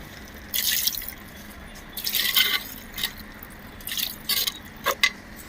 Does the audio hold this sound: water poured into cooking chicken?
yes